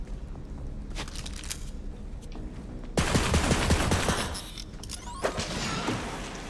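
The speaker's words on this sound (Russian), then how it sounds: "Тут есть пушки, которые выбрасываешь, она встает как турель и стреляет." Deployed turret gun in Borderlands 3 rattles off bursts of rapid automatic fire, loud and dense at first, then continuing in sustained volleys mixed with impacts and crashes.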